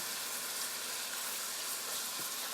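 Seasoned shrimp sizzle in a pan over medium heat, a steady, even hiss of frying with no talking.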